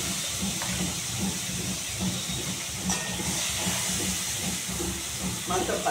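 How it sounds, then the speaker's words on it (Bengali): Shrimp frying in hot oil with turmeric and salt gives a steady, close, broadband hiss and sizzle that runs unbroken throughout, with faint kitchen clatter underneath. "আমি এখন হলুদ আর লবণ দিয়ে চিংড়ি মাছটাকে ভেজে নেব।"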